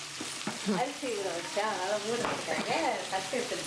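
Curry leaves and onion fry in a pan with a steady sizzle and some stirring, largely under a person talking throughout.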